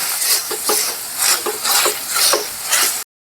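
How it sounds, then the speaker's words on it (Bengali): Cooked dal is pressed and mashed with a fork in a pan in rhythmic squelching pushes, roughly five soft wet strokes over a few seconds, with no one speaking. "আমি ডালে কাঁটা দিয়ে একটু ম্যাশ করে দিচ্ছি"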